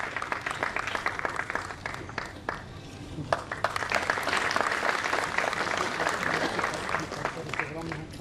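Audience applause welcoming the head of a research institute at a 2024 national memorial lecture series, steady clapping from a crowd throughout, with a voice talking over it.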